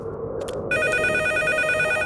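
A telephone rings in a Telugu cartoon, a bright repeating bell tone starting partway in and continuing steadily and loud over a low background bed.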